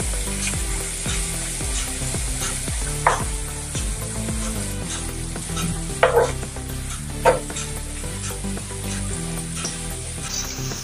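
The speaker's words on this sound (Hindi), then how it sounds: "इसको उलट पलट कर ही तलना है, अच्छे से तलने के लिए होना अंदर से भी।" Crisp shakkarpare frying in hot oil, with a steady close sizzle and repeated stirring and turning scrapes, plus a few sharper clinks of the utensil against the pan, and no speech.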